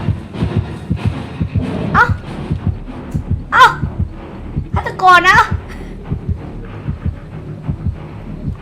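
Low repeating heartbeat thumps from the killer's terror radius in the horror game Dead by Daylight, pulsing steadily through the whole stretch under someone talking, with other game sounds around it.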